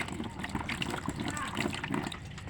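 One liter of clean water poured into a pot while making homemade donuts, a steady splashing, sloshing stream at close range with a voice talking over it.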